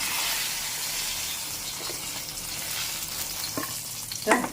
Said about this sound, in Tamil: இப்போ பாருங்கள், கத்திரிக்காய் வதக்கிட்டேன்